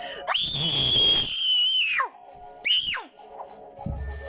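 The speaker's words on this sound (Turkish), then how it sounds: "Var o arkadaşlar şimdi bakın ne kadar bağıracağım." A man screams at full volume in a long, high, piercing shriek, pauses, then lets out a second shorter scream that drops away, with quieter background noise between.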